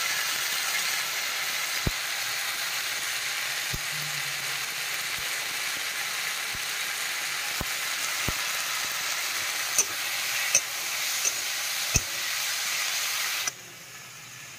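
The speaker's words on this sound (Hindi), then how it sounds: "भून के थोड़ा सा इसमें हल्दी डाल देती हूँ" Palak paneer ingredients frying in a pan with turmeric added, a steady close sizzle and hiss running throughout, broken by occasional sharp clicks of a spoon against the pan.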